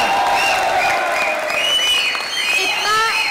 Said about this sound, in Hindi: जिनको लगता है हेरा खान जीती वो तालियां बजाएं।